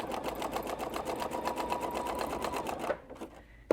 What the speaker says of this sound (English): and just start sewing.